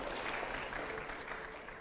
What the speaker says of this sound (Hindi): तालियां जरूर हो प्लीज